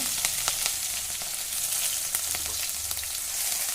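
Mustard seeds, cumin, garlic-ginger paste and green chillies sizzle in hot oil, a steady close crackle with scattered sharp pops throughout.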